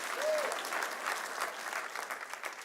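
Church audience applauding, a sustained crackle of many hands clapping from across the room, fairly soft and even, with a brief faint voice near the start.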